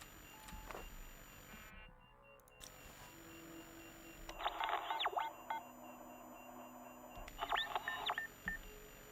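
A transceiver radio in The Long Dark emits short electronic beeping bursts, faint and sparse at first, then two clusters of rapid bleeps over quiet game ambience.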